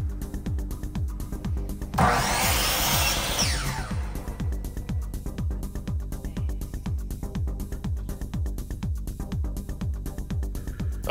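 A bandsaw cuts 1 by 1 square wood, a loud whining burst lasting about two seconds over the steady rhythmic hum and thump of the running machine, which continues alone afterward.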